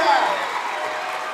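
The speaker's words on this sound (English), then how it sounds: "the Cougars have the crowd into it now" A high school varsity basketball crowd at a Phoenix Christian Cougars game cheers and claps steadily in a loud, continuous wash of noise, with a commentator talking over it.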